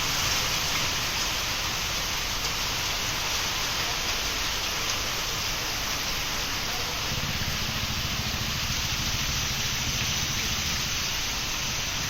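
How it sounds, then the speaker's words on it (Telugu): Heavy rain driven by gusty winds pours down during a storm in Andhra Pradesh, a dense, steady hiss that stays loud and unbroken throughout with a low rumble underneath and no voices. "ఈదురుగాళ్లతో భారీ వర్షం కురిసింది."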